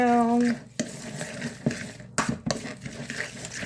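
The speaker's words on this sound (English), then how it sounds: "And then I take a fork. And I mix it" A fork scrapes and clinks against a dish while ketchup is stirred into food, giving soft irregular taps and scrapes at close range after a brief tonal sound at the start.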